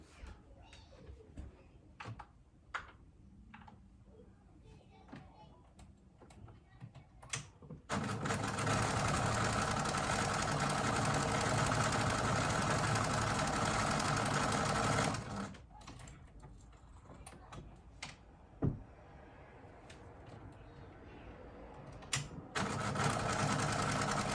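Domestic sewing machine running a tight, small zigzag satin stitch along a bra strap, giving a continuous buzzing whir for several seconds. Shorter bursts, clicks and handling noises come before and after, and there is faint talk at times.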